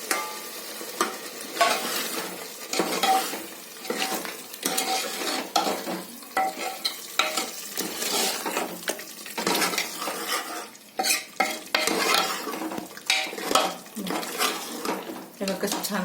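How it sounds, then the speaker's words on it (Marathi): Chicken or mutton liver sizzling in a pan of masala with salt and a pinch of garam masala, stirred steadily by a spoon that scrapes and clinks against the pan throughout, with close, continuous frying crackle. "आणि आता ही कलेजी, ही सगळी कलेजी मी त्याच्यात घालते"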